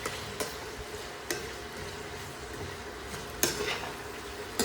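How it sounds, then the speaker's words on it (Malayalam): Sliced onions are stirred in a frying pan while cooking chicken curry, making a soft continuous sizzle broken by a few sharp scrapes and clinks of a spoon against the pan. "അപ്പോൾ അത് സവാള ഇട്ടൊന്ന് ഇളക്കുവാണ് കേട്ടോ."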